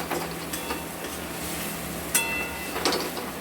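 Ground cumin, coriander, Kashmiri chilli and turmeric fry in oil for a katla fish curry with potato and taro, a soft continuous sizzle punctuated by a few sharp scrapes of a spatula against the pan.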